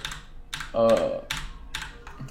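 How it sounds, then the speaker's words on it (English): Keys pressed on a computer keyboard, near the number pad: a handful of sharp, close clicks in an irregular rhythm, with a brief louder held tone midway. "you want to press the little star button on your keyboard next to your number pad"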